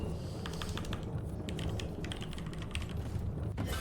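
Keys clatter on a computer keyboard as a message is typed, quick irregular bursts of clicks over a steady background hum, close by, with no speech.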